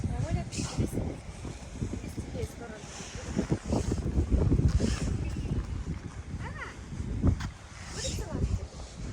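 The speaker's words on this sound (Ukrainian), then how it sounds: "щось вітер розійшовся" Wind buffets the microphone in low rumbling gusts while people talk over it outdoors at a children's playground.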